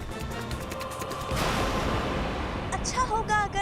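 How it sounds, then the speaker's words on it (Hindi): Firecrackers set off during a fireworks celebration, a dense crackling burst that swells into a continuous roar of pops and bangs, with faint voices in the background. "हमारे सामने पटाखे जला रहे हैं"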